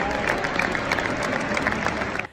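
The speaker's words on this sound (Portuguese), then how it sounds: "o estádio inteiro irrompeu em aplausos para homenagear sua memória" A whole football stadium crowd applauds in tribute a few minutes into a match: dense, steady, loud clapping from a vast crowd that holds throughout before fading at the very end.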